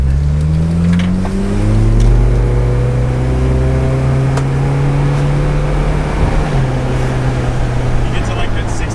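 A cheap $500 turbocharged car, reportedly running a half tank of E85, drones loudly from inside the cabin as it accelerates, the engine tone rising steadily and holding in a continuous near roar.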